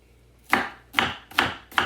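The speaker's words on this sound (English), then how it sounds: "I'm probably gonna cut up another onion" A knife chopping an onion on a cutting board, four sharp, close, evenly spaced thuds in a steady rhythm, with no talking.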